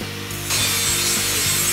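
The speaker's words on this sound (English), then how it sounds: "Love the smell and the sound of a grinder in the morning." An angle grinder cuts steel for a vehicle floor, a steady loud abrasive whine that jumps in intensity after a brief quieter start, with a low hum beneath and no voices.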